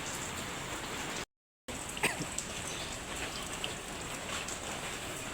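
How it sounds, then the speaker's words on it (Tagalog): Heavy rain pours steadily while people wait at the roadside for it to ease, a dense continuous hiss with a few sharper drops and splashes standing out, and no voices. "Medyo pahihinain lang ng konti yung ulan para makaalis na kami."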